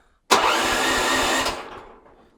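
A MTZ 132H mini-tractor engine bursts into life and runs loud and steady for just over a second, then quickly dies away. No voices are heard.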